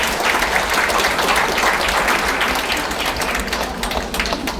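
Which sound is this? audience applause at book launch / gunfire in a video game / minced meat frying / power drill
audience applause at book launch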